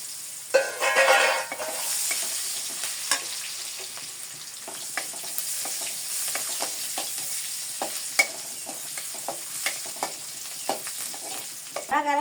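Chopped onions sizzle steadily in a hot pan where fish has just been fried, while a spoon stirs them with frequent scraping clinks and taps, close and clear, with no talking.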